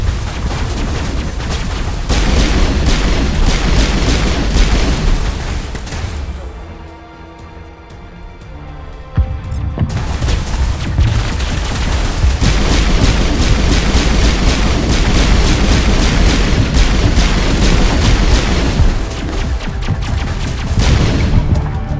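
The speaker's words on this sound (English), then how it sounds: "Gas flare is destroyed. And a big boom." A gas flare blown apart in Mass Effect Legendary Edition, a loud, sustained roaring explosion with heavy rumbling booms, dipping briefly before surging again into a long, thunderous blast.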